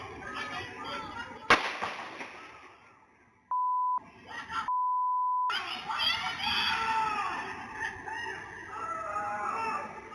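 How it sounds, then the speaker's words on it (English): A gunshot recorded outdoors during a street confrontation, a single sharp crack heard after a voice, followed by a bleeped span, excited voices and a long beep tone, with people talking throughout. "Listen as you hear a woman's voice and then the gunshot."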